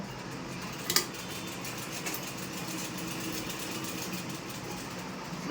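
A sewing machine hums steadily and faintly as it stitches pleats into a patiala salwar, keeping an even mechanical drone throughout. A couple of small clicks come early on, and no voices are heard.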